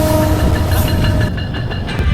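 A Lalmoni Express meter-gauge intercity train runs past, its steady loud rumble of wheels and carriages filling the whole stretch with a faint rhythmic clatter and no voices.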